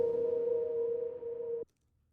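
A rendered piano chord drenched in added reverb, a single sustained harmonic tone holding steady for about a second and a half before cutting off abruptly into silence.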